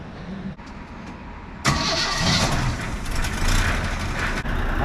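A 1971 Chevy C10 pickup engine cranks briefly and then fires up, settling into a loud, steady rumbling idle close by.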